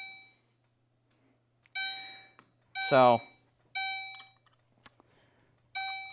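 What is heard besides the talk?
fire alarm pull station alarm going off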